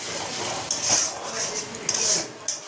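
Masala spices frying in oil in a pan while being stirred, with a steady hissing sizzle and repeated metallic scrapes and clanks of the spatula against the pan.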